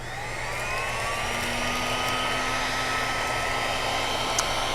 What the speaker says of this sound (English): I'll just throw a little bit of heat from this heat gun onto just a piece of film.